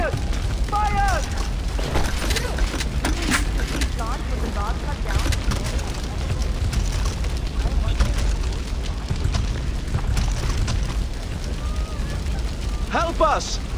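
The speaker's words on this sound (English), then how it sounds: "To attack the gun emplacements that are shelling Utkarsh." Artillery shelling and explosions batter a burning village under attack in Far Cry 4, a dense, continuous roar of booms and blasts with shouting voices and cries woven through the chaos.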